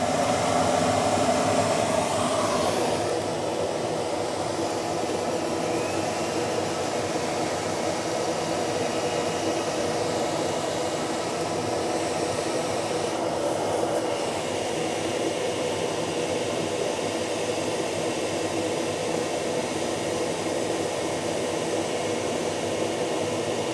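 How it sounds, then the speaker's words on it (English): Vacuum table of an XTool D1 Pro laser cutter running wide open while cutting acrylic, a steady broadband airy roar like a hair dryer, constant and fairly loud throughout with no talk. "I do have my vacuum table running wide open"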